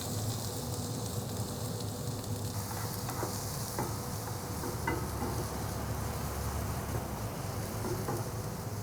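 Peppers and shallots cook in a tablespoon of butter on a stovetop, giving a steady, dense sizzle with faint crackles throughout and no voices.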